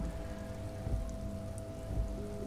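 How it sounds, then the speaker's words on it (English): Steady rain falls in the video game Disco Elysium, a soft continuous patter over a low ambient hum, with a couple of slightly heavier swells and no voices. "where the rain is falling down on our heads."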